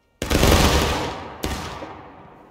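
A company of Civil War-era muskets in War of Rights fires a volley: a loud, sudden ragged crash with a long rolling decay, then a second, smaller burst of late shots about a second later, fading out.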